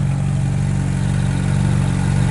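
The engine of a damaged 2010 Ferrari 458 Italia runs at a steady idle up close, a loud, even, pulsing drone with no voices over it.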